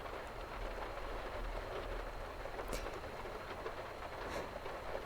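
Rain falls steadily on a car during a thunderstorm, a dense, soft hiss of drops that stays even throughout without talk.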